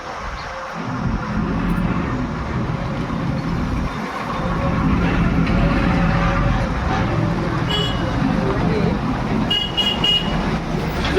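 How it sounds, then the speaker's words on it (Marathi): Heavy road traffic rumbles close by outside a roadside tailoring shop in the evening, with car horns honking briefly toward the end and voices murmuring underneath. "खूप गाड्यांचा आवाज येतो"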